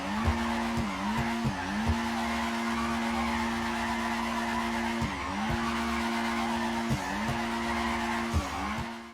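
Car tires skid and squeal steadily while drifting sideways in GTA 5, a loud continuous screech with a low engine drone beneath, briefly breaking off and restarting several times.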